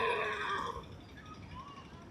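A Nukra horse at the Jagraon horse fair in Punjab lets out a loud, quavering neigh lasting under a second, followed by softer crowd ambience.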